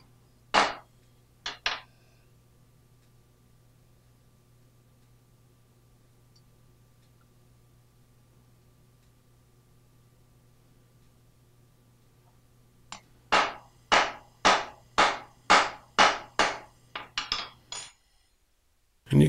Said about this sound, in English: Hammering it right down into that groove.